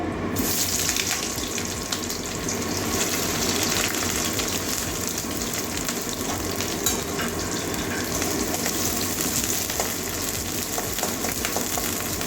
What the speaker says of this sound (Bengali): কাঁচা লঙ্কা পেঁয়াজটা একটু ভেজে নেবো কাঁচা গন্ধ যাওয়া পর্যন্ত